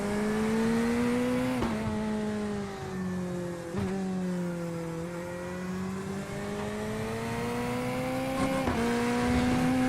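A Corvette GT3 race car engine in a racing video game at the Portimao circuit drones steadily at high revs, pitch rising and dipping with brief shifts, loud and continuous with no talking.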